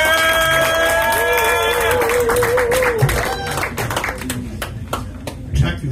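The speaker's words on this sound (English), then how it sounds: "So start clapping, make some noise." A comedy club audience claps and cheers for a comedian, with steady applause under a host's sung and spoken introduction that fades as the clapping thins out.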